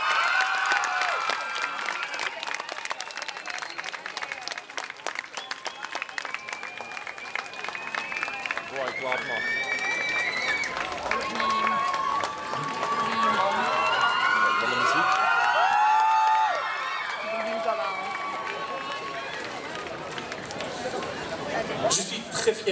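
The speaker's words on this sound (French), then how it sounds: "Mesdames, Messieurs, veuillez applaudir chaleureusement Quentin Mosiman" Crowd at a club opening event cheering, whooping and clapping for a featured performer, a loud sustained roar with shouts and whistles rising over the clapping and staying energetic to the end.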